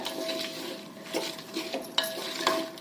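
Spoon scraping and stirring peas, potatoes and masala inside a metal pressure cooker, giving steady close scraping with a few sharper clinks against the pot and a faint sizzle underneath.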